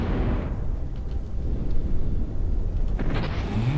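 Explosions in a naval combat video game give a heavy, continuous low rumble that booms and rolls throughout, with a fresh blast flaring up near the end; loud and close, with no talk.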